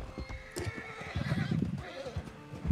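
A horse in the video game Red Dead Online whinnies loudly near the start, while its hooves keep thudding underneath in a quick, uneven rhythm.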